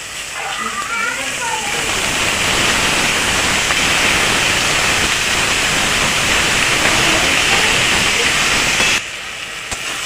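Boiled taro stolons hit a pan of frying onion and garlic, setting off a loud, steady sizzling hiss that runs for about nine seconds before dropping to a softer simmer.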